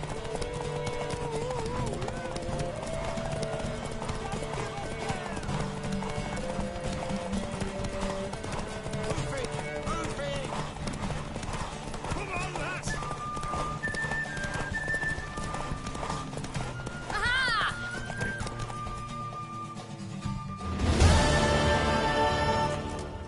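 A horse gallops with rapid rhythmic hoofbeats over dramatic music, a whinny rising near the end, and a sudden loud rush of movement in the closing seconds.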